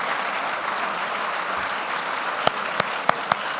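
Audience applause greeting the head table at a Canadian Club luncheon, a steady broadband patter of many hands clapping throughout, with a few sharp louder claps standing out near the end.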